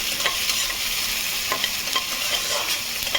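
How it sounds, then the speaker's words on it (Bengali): Garlic frying in a pan for chilli chicken fried rice, a dense steady sizzle broken by a few soft stirring scrapes, close and continuous with no talk. "রসুনের গন্ধটা যাতে চলে যায় সেটা আমি ফ্রাই করবো।"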